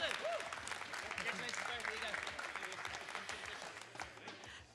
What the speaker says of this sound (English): Round of applause again for Justin, guys.